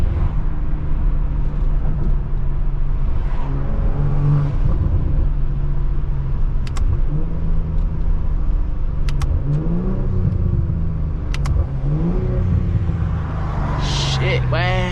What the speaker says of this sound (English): The burbles are definitely very like peak in 4th and 5th gear